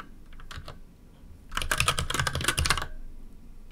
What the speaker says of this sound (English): now what I'm going to do is type in the name of the cluster